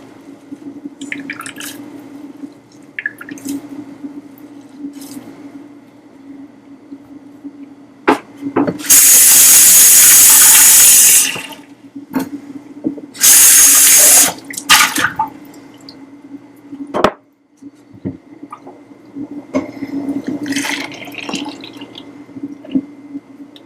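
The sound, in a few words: water running from tap while rinsing out a container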